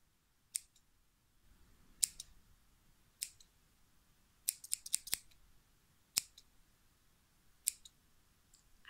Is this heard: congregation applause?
no